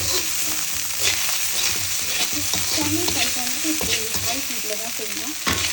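Garlic, soy sauce and small hot chillies stir-fry for nasi goreng, a loud, constant sizzle with frequent spatula scrapes and tosses up close, and no voices.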